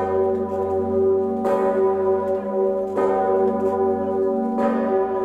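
The huge 9-ton bell of a cathedral in Kraków tolls three slow strikes, each one swelling into a long, humming resonance that hangs between blows.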